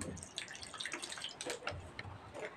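A small amount of water poured into roasted mango pulp, heard as faint, close dripping and splashing in short irregular bursts.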